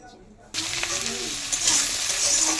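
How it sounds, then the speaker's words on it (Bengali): After a quiet moment, a loud sizzle erupts as potatoes drop into hot oil with cumin seeds, then keep frying steadily and close by. "আলুটা ছেড়ে দিয়েছি, এবার আলুটা ভালো করে ভেজে নেবো।"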